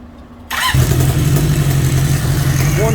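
1976 Honda CB750K four-cylinder motorcycle engine after a full carburetor service, catching and firing up abruptly after a quiet moment, then running at a steady, loud, close idle with no speech.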